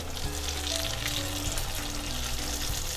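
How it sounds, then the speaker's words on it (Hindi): Masala fish pieces fry loudly in hot oil, a dense, constant crackling sizzle filling the pan at close range, with no talking. "मछली को हम पलट पलट कर पका रहे हैं"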